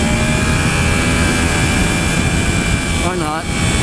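A 2015 Yamaha R1 motorcycle engine howls loudly at high revs under heavy wind roar, then the pitch drops briefly as the quick shifter clicks through an upshift.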